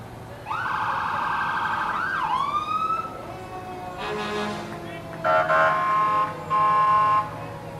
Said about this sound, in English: this will be the loudest parade unit we're going to have in a while with the horns and sirens